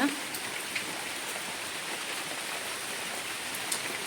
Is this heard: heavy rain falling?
yes